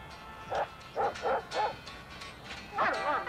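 Several small dogs give short yipping barks in quick bursts, a cluster of three or four close together and then a longer, wavering yelp after a pause, fairly near with no talk over them.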